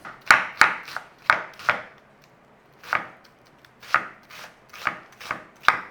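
A knife chops through leftover onion on a cutting board for dicing, with about ten sharp, fairly even strokes in two bursts and a short pause between them. The chopping is close and crisp.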